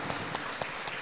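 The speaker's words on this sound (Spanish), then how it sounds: "fuerte, fuerte el aplauso para aquel que nos dio vida y vida en abundancia." Church congregation applauding at a Spanish-language worship service, a steady wash of many hands clapping, moderately distant, filling the whole moment with no voices over it.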